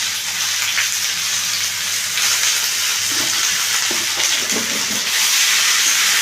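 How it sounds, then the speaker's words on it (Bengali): Ridge gourd and potato pieces seasoned with salt and turmeric fry in a pan, giving a steady, loud, close sizzle with occasional stirring scrapes and no voices. "এবার এটাকে আমি ভালো করে একটু ভেজে নেব।"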